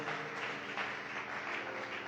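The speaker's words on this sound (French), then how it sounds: "Reçois les acclamations de ton peuple" Churchgoers at a worship service clap together in a continuous, even roar of applause, soft and somewhat distant, sustained from start to finish with no voices standing out.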